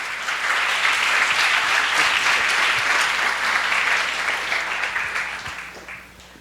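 Sustained applause from an audience at a community day event, a dense steady wash of clapping that holds for several seconds and fades near the end.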